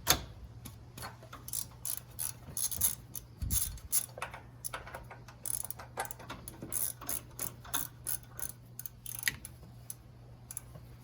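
Ratchet wrench loosening a car's thermostat housing bolt, a steady run of close, crisp clicking strokes repeating throughout with a low hum underneath.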